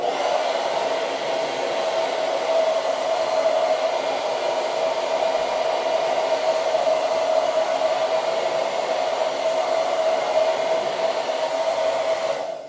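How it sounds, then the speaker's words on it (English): A hair dryer blows steadily and loudly up close, a constant whooshing roar with a humming motor tone that cuts off at the end. "I'm directing the blow dryer at it."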